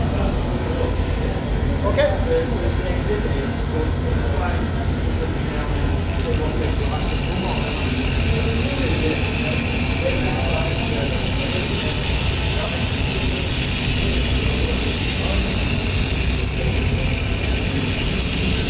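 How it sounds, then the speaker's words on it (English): A Meccano model motorcycle combination runs at a model engineering exhibition, giving off a steady mechanical whir that turns into a bright, high whine partway through, with a hall murmur and voices behind it. "It's the first time I've seen a motorcycle combination made out of Mecanno. It actually runs."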